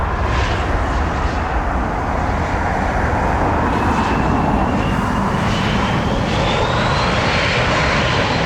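An airliner comes in to land, its loud, broad engine roar rushing steadily with a slowly shifting whine as it passes nearby, with no voices.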